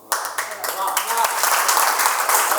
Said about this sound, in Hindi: अच्छा, इस पे ताली बजती है?